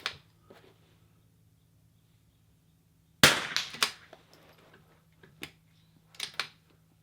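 A rifle shot cracks out at an NRL22 shooting range match: one loud, sharp report stands out near the middle, with a few fainter clicks and knocks before and after against quiet outdoor background.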